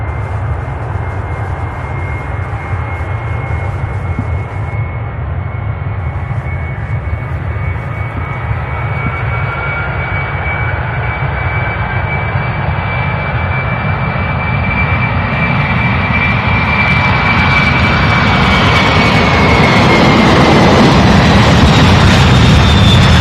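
A heavily loaded plane rolling down the runway on takeoff at Louisville International Airport, a loud sustained engine roar with a rising whine that swells steadily toward the end.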